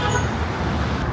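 Busy Cairo street traffic on a wide road with no lane markings, a steady close wash of engines and road noise with a brief horn toot near the start.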